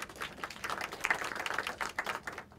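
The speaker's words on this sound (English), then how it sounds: "I expect that you're going to have another round of applause." Audience applause welcoming a radio correspondent at a discussion event, a dense patter of many hands clapping at a moderate distance, steady for a couple of seconds before thinning out.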